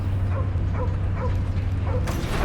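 A dog in the Guardians of the Galaxy video game gives several short yips and whimpering barks in a steady rhythm, half buried under dense, loud game music and effects.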